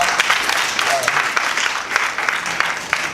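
A church congregation at a Sunday service breaks into applause, a steady, dense patter of many hands filling the room, with voices faintly audible beneath.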